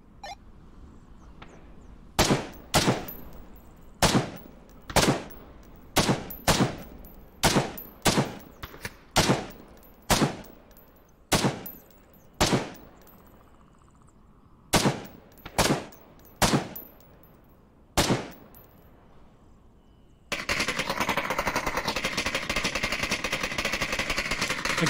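Rifle shots ring out in the VR shooter game Onward, with about twenty sharp, loud single reports fired in an uneven rhythm before a dense, continuous burst of noise takes over near the end.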